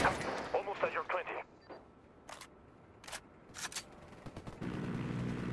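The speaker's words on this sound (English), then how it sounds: "Shots fired. Unidad's engaging the cartel." Several sharp, separate gunshots crack out in Ghost Recon Wildlands during a fight with the cartel. Bursts and single reports are spaced over a few seconds, with a voice talking near the start and a steady background rumble.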